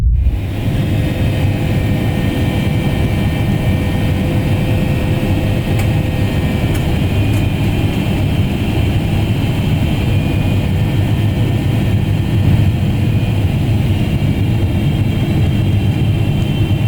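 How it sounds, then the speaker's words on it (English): Steady, loud jet engine roar with low rumble heard from inside the cabin of an Air Canada Boeing 777-300ER as it comes in to land on runway 25 right at Frankfurt, continuous and unchanging throughout with no talk. "Here in Frankfurt we are about to land on runway 25 right, which is only used for landings"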